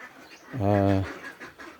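A single loud, nasal duck quack from a farm duck, close by, lasting about half a second and rising out of a quiet outdoor background.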